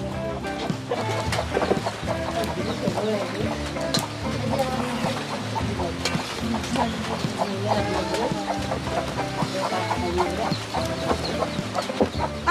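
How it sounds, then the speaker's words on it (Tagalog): Chickens cluck continuously at close range, a busy mix of overlapping calls and squawks with faint voices in the background. "ginulat mo pa yung manok"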